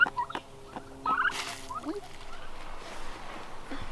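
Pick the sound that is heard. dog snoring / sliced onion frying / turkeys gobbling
turkeys gobbling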